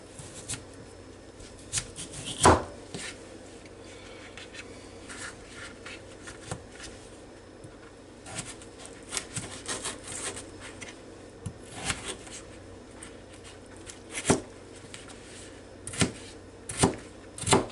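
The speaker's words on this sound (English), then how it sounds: "So now we'll put them on this cutting board here and start dicing them up." Washed, peeled potatoes are diced with a knife on a cutting board, giving soft irregular chopping taps and scraping, with a few sharper knocks, close and fairly quiet.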